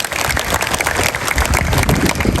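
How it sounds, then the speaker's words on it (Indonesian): A school audience applauds for a student named Laila, dense sustained clapping from many hands that stays loud and even throughout. "Tepuk tangan untuk Laila"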